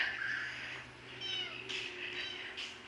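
A cat meows a few times in short, drawn-out calls, close by, at a temple in the evening, over a faint low hum with no talking.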